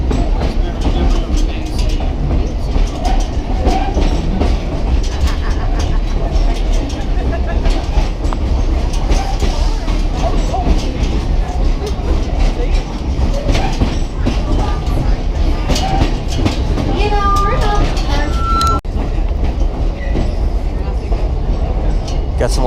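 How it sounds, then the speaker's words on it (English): A Stone Mountain Park excursion train rolls steadily along in Georgia, loud continuous rumble with repeated clickety-clack of wheels over rail joints, and voices faintly present in the background. "So please remember to remain seated while the train is in motion."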